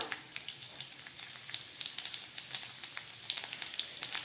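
Dried red chillies and grated ginger sizzle in hot oil with nigella and mustard seeds, a steady close crackling fry with small pops scattered throughout, no voices.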